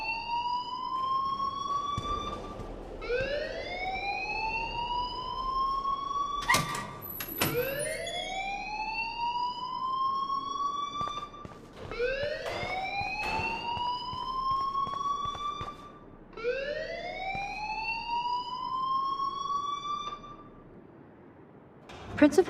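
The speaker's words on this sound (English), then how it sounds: "please turn off that alarm since that's your job" A school fire alarm in the Life is Strange video game whoops in repeated rising sweeps, loud and steady, with sharp clatters and faint voices in the background.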